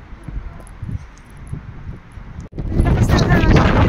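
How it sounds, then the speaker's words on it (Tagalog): Strong wind buffets the microphone outdoors at an Avondale basketball court in New Zealand in early spring, a low rumble at first that swells into loud, steady roaring gusts over the second half. "Lakas ng hangin."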